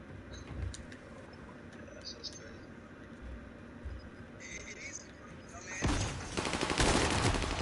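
Gunfire in the Call of Duty Warzone video game, a dense crackle of rapid shots that swells into a loud burst near the end, under a steady bed of game noise.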